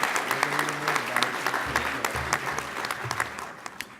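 Audience applause at a healthcare conference in the Cayman Islands: a dense, steady round of clapping from a full room, with a voice faintly audible beneath it.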